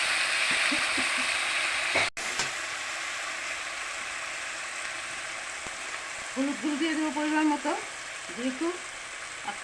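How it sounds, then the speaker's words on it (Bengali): Spice paste frying in hot oil for a vegetable pachan, a loud steady hiss and sizzle throughout with a sharp knock near the start and a brief voice over the sizzle later. "মশলাটা দিয়ে দেবো"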